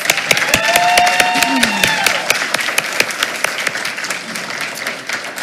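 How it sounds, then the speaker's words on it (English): Audience applause at a school board meeting for a student of the month award, with scattered, distinct claps from a small crowd and a short voiced exclamation early on, tapering toward the end. "And let's give Kevin one other round of applause."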